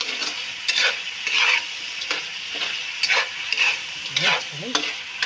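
Vegetables, including string beans and bitter melon, stir-fried in a sizzling pan, with repeated scraping stirs over a steady close frying hiss.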